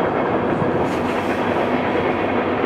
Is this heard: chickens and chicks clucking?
no